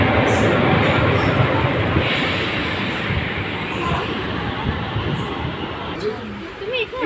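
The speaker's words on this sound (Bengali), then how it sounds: "আমাদের ট্রেন ঢুকছে" A train pulls into a station with a steady broadband rumble and rattle, while people talk nearby.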